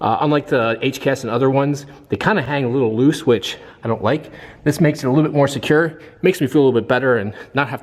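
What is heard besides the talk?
No everyday noise stands out behind the speech.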